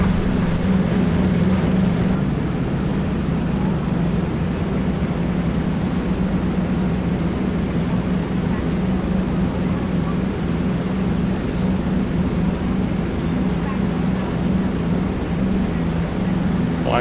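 Steady, droning roar of the twin propeller engines on a DC-3 climbing after takeoff in X-Plane 11, loud and unbroken throughout, with a low hum underneath.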